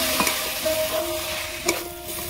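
A spoon stirs semai vermicelli in a pan as milk is added bit by bit, giving a soft, continuous scraping and light sizzle with a couple of sharper knocks against the pan.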